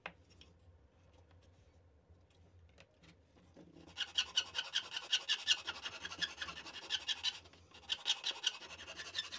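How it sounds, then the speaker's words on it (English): Repeated rasping strokes of a file or sandpaper shaping the taper on a wooden hull plank for a model of the battleship Yamato, steady and close, growing louder and busier after a quieter opening. "just to achieve this taper, it's quite easily made just using a file or some sandpaper"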